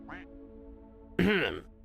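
Cartoon birds squawk in the space game Star Birds: a brief chirp followed by a louder, longer quacking squawk, close and prominent over a low humming score.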